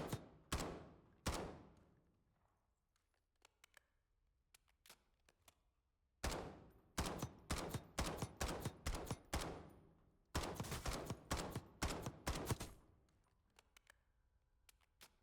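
CR-56 AMAX rifle in a shooting video game fired in sharp bursts at a range target about 75 meters away: a few single shots, a pause, then two rapid full-auto strings of loud cracks with quiet gaps between.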